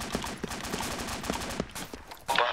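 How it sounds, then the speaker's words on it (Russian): An M-series rifle fires nearby in ArmA 2, a string of evenly spaced single shots with a sharper burst near the end, moderately loud over a steady background. "Опа, М-ка стреляет рядом."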